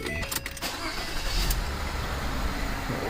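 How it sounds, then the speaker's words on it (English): A 2010 Ford Fusion 3.0L AWD SEL cranks and catches, the engine settling into a steady low rumble after a brief starter whir, close by and alone. "So I'm going to start the car up"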